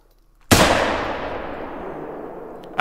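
A single loud 30-30 rifle shot fired with soft point round nose bullets at a brown bear in theHunter: Call of the Wild cracks sharply, then rolls into a long fading echo, with the start of another sharp sound at the very end.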